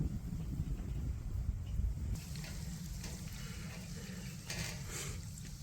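Water siphoned through a hose on an allotment, a low steady gurgling rush close by that shifts to a thinner trickle and splash partway through, fairly quiet and with no talking.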